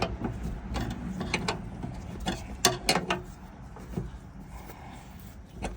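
A stud bolt being tightened into the floor pan of a 1968–1972 Chevelle during a racing seat install gives a run of close, sharp metallic ratcheting clicks and clanks in short irregular bursts over low background hum.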